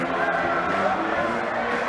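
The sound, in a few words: basketball arena crowd cheering during timeout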